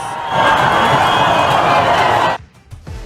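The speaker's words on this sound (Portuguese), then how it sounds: "torcida atleticana comemorando dentro e fora do estádio mais um título do Rubro Negro" Athletico Paranaense supporters celebrating another title at and around the stadium, a loud roar of crowd cheering that swells and holds for about two seconds, then cuts off abruptly into a few scattered shouts.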